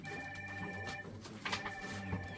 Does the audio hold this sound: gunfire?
no